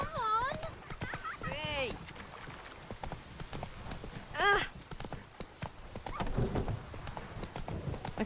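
In The Witcher 3, the horse Roach's hooves clip-clop in quick rhythmic steps, with voices calling out over them and a short whinny-like cry midway.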